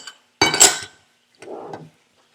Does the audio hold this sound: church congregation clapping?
no